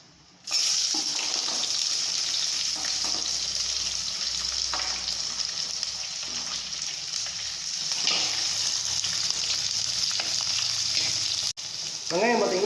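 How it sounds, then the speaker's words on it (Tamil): Small onions, added after curry leaves, frying in hot oil for a Chettinad fish curry, giving a steady loud sizzle throughout with occasional stirring and a faint watery splash near the end. "வெங்காயத்தை ஆட் பண்ணிக்கிறோம்."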